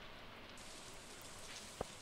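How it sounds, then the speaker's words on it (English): Rain falling in the farming video game Stardew Valley: a faint, even patter holds steady throughout, with a single small click near the end. "Oh, it's raining today."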